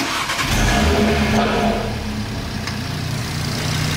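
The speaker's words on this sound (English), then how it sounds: "we'll run it up to temperature, run through the gears" An Audi RS3 with a stage 3 hybrid turbo setup revs loudly up close while warming its oil, the engine swelling into a rising roar then settling back to a steady throaty idle.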